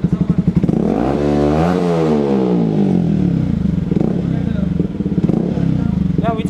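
A Yamaha R15 motorcycle with an Akrapovic x SC Project exhaust revs up sharply and falls back, then holds a loud, raspy drone close by before a few blips at the end.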